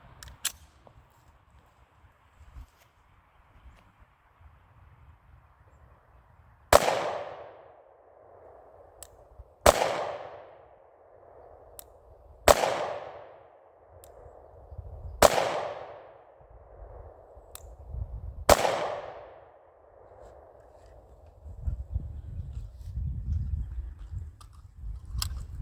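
A Sig P365 pistol fires five 124 grain aluminum-case rounds at a target. Five loud, sharp shots ring out about three seconds apart, each with a ringing decay, after quiet at the start.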